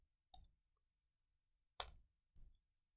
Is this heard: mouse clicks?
yes